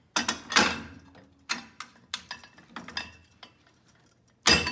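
Metallic clicks and ratcheting clacks come from screwing down a TRAX Atwood hitch adapter onto a hitch ball, close and crisp in irregular bursts with short pauses, ending in a louder clank.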